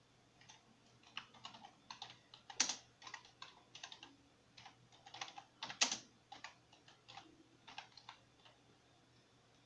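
Steady, clicky typing on a computer keyboard while entering a disk partition command to fix a corrupted USB flash drive, irregular bursts of keystrokes with a couple of louder key strikes.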